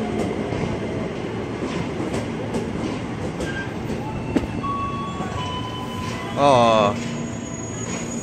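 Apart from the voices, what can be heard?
electric commuter train passing station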